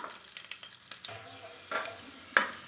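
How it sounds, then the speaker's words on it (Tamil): Halved garlic cloves fry in hot oil, a soft steady sizzle broken by a few sharper crackles and a stirring scrape near the end. "இந்த மாதிரி நல்லா ரோஸ்ட் ஆகணும் அந்த அளவுக்கு நல்லா வறுத்துக்கலாம் பூண்டை"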